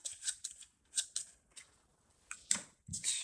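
Game cards are shuffled by hand in a quiet room, a series of short, crisp riffling and snapping bursts with brief pauses between them.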